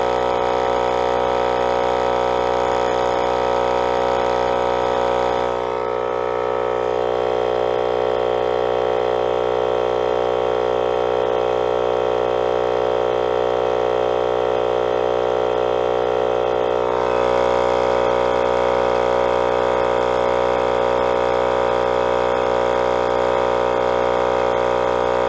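Small portable jumper pack running as an air compressor, inflating a tire on a 62-year-old Dodge, a steady loud mechanical drone with a constant pitch that dips briefly partway through and then resumes.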